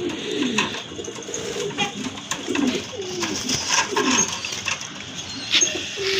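Pigeons coo repeatedly close by in soft, rolling phrases that overlap one another over a steady background hum, with no talking.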